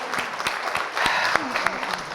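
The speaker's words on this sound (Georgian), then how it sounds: "აპლოდისმენტები თამარს." A studio audience applauds a contestant at a school book-quiz final with a short, fairly loud burst of clapping, and a voice is briefly heard over it.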